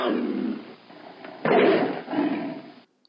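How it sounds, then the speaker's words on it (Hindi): Lion roaring in a few deep, rough bursts, loud and close, rising again after a short dip before fading out abruptly. "तो शेर ऐसे दहाड़ता है।"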